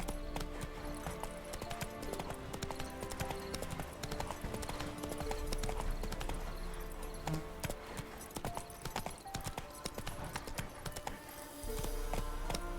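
Horse hooves clip-clop continuously in the video game The Witcher 3, with a rhythmic drumming of hoofbeats over a dense background of game music and ambience.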